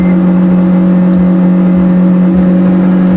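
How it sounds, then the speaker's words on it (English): A car engine holds a loud, steady high-pitched drone at sustained high revs, constant and close throughout with no speech. "you can hear the engine is still at full rev"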